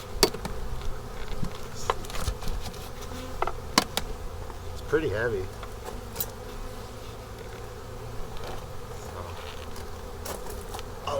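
Bees buzz close and continuously inside a wet, moldy beehive, a dense steady drone with individual insects flying past, while a person briefly speaks over it.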